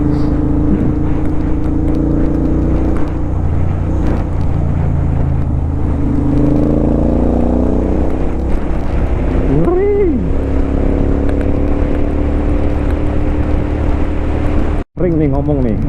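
Heavy trucks and other traffic rumble steadily along the Demak-Kudus stretch of the Pantura highway in Java, a loud continuous engine drone with passing vehicles, and a voice talks over it.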